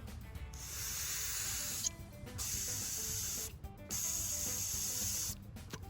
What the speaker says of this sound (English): So I know that the valve works because I can hear it when I'm blowing on it.